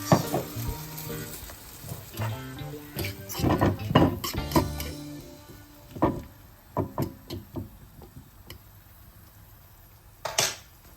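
Coconut milk sizzling in a hot pan while parrot fish is being cooked, with bursts of frying hiss, sharp knocks and clatter of utensils against the pan, irregular and close, loudest early then tapering.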